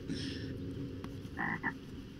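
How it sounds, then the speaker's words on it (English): Frogs croaking in a Dota 2 match, a few short chirpy croaks in quick bursts over a low game ambience, fairly faint with no speech. "And the frogs come out."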